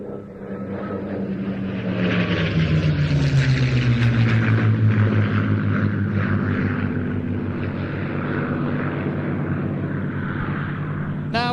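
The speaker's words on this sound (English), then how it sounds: "Messerschmitt 109 and Mustang P51." A Spanish-built post-war Messerschmitt 109 and a P-51 Mustang fly past at an airshow, their propeller engines droning loud and close with a sweeping pitch shift as they pass, alone without talk.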